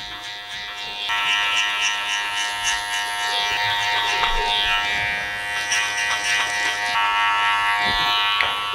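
Electric hair clippers set to a 2.5 guard buzz steadily and loudly up close as they cut through hair during a haircut, the tone shifting slightly as the blades work through it.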